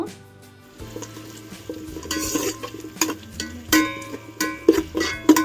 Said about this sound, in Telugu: జీడిపప్పుని యాడ్ చేసుకున్నాక కొంచెం సేపు అయితే ఫ్రై చేసుకోండి ఆయిల్లో